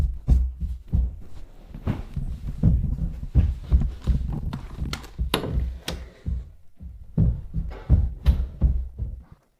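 Footsteps in a video game: loud, heavy thuds in a steady walking rhythm that continue for several seconds and then stop, with no voices.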